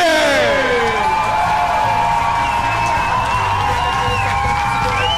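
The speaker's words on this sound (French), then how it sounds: "On l'accueille avec un tonnerre d'applaudissements." A comedy-festival crowd at Comediha greets comedian Jo Cormier with loud, continuous applause, layered with cheers and high whoops and whistles rising over the clapping.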